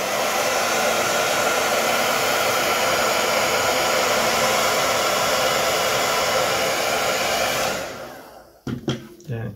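A heat gun blows a loud, steady roar while shrinking film covering on a model glider wing, running continuously before switching off, followed by a few handling clunks.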